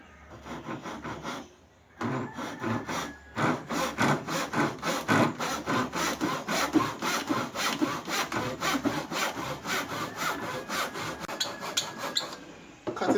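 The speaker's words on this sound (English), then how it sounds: "Cutting it down to the shoulder that I marked out." A hand saw cuts wood for a half-lap dovetail joint at a bench vise. Steady back-and-forth rasping strokes run close and loud for most of the stretch after a brief pause near the start.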